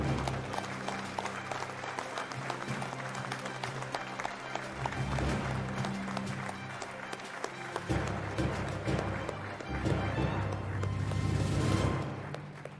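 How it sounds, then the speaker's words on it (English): An awards ceremony crowd applauds for Valor Award recipients, dense, sustained clapping filling the hall and swelling toward the end, with brief speech mixed in. "a big round of applause for all of our Valor recipients this evening"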